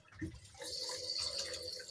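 A water fountain that is not filled all the way runs quietly indoors, a faint steady trickle and splash with a few soft drips near the start.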